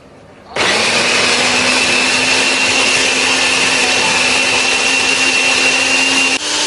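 A blender grinding chili and shrimp paste with a little water starts abruptly and grinds loudly and steadily for several seconds with a constant high whir, then cuts off near the end.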